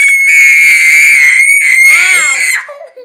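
A baby screams loudly and continuously at close range during babysitting, a shrill sustained cry that wavers and breaks near the end before trailing off.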